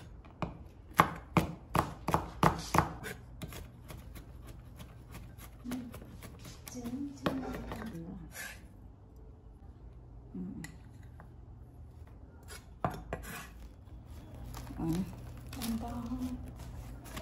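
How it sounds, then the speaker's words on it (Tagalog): Garlic is finely chopped with a knife on a board in a kitchen, with a quick burst of crisp taps at first, then scattered chops, while a person talks throughout. "At syempre sa bawang, ito naman yung medyo maliliit natin na paghiwa."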